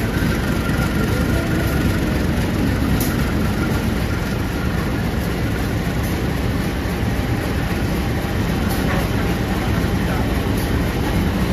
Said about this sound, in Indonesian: ini kita ketemu sama kereta yang baru upgrade rangkaian coy. Kereta api Pasundan